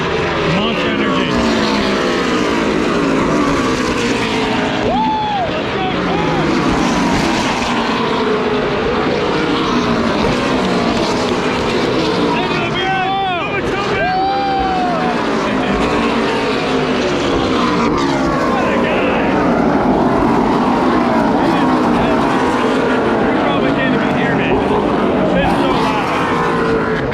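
NASCAR race cars in a video game roar past around a Daytona track, with a continuous loud engine whine and rising and falling pitch sweeps as cars go by, heard under nearly constant excited talk.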